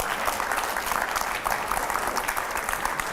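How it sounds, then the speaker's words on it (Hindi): Loud applause from a studio audience at a televised editors' discussion show, thick continuous clapping with scattered sharper claps standing out, steady throughout. "जरा जोरदार तालियां हो पहले"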